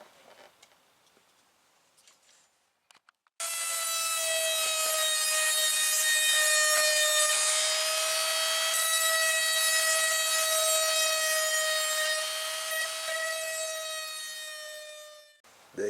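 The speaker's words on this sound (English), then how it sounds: "I'm gonna open it up with this Chicago electric dremel tool" Chicago Electric Dremel rotary tool grinding along a crack to open it up, a loud high steady whine that starts abruptly after a few quiet seconds and holds its pitch for about twelve seconds before cutting off.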